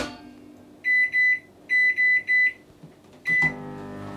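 A microwave oven heating a toastie maker gives a run of five sharp electronic beeps in two quick clusters, then one more beep, over a low, steady background hum.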